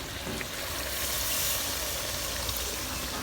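Water poured over beef tripe cooking in a hot pot gives a steady, loud hiss and sizzle that stays even and unbroken to the end.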